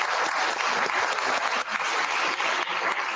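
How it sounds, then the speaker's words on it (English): Steady, dense applause fills a board of supervisors meeting room, a continuous wash of many hands clapping at close range for the full few seconds with no talk over it. "let's give him a round of applause for that."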